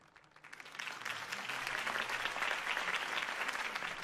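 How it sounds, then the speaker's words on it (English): Applause from a crowd after a campaign speech in a Batman video game swells quickly from a quiet start into dense, sustained clapping that carries on evenly, heard alone with no voices. "could have heard that applause"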